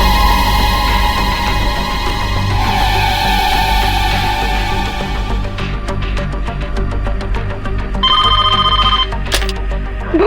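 A phone rings in repeated bursts against a loud, busy background hum, the ring clearest near the end.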